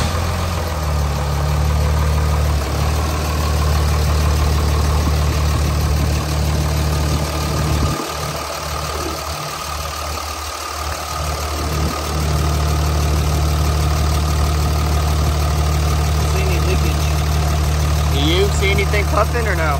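A high-mileage third-generation 5.9 Cummins diesel truck engine idles steadily with a newly fitted turbo and manifold, a constant low rumble running the whole time, with people talking close by over it.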